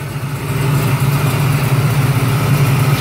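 A 1967 Camaro with a brand-new 383 stroker engine, running slightly rich, idles steadily and close by with a low, even rumble and no voices.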